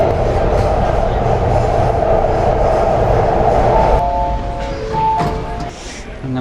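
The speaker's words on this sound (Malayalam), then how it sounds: "നമുക്ക് പോകേണ്ട ട്രെയിൻ വന്നു കേട്ടോ." A driverless, sensor-guided metro train pulls into a station, its loud steady rumble and wheel noise filling most of the clip before easing off, with brief tonal electric whines as it slows to a stop.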